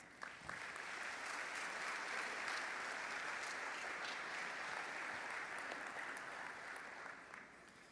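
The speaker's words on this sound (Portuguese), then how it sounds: "recebam esses corajosos convidados para o meu ambiente de casa com a salva de palmas." Sustained audience applause fills a church gathering, a broad steady wash of many hands clapping that holds for several seconds before easing slightly at the end.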